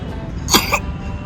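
One short, sharp cough close to the listener, standing out briefly against a quiet room.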